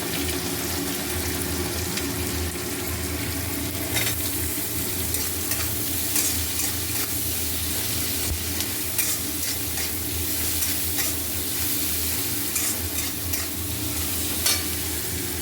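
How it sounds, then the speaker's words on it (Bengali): Onions fry in a pan with a steady, dense sizzle while a utensil stirs them, scraping and rustling in an ongoing rhythm, close and fairly loud with no talking. "এবার পেঁয়াজটা নাড়তে থাকবে"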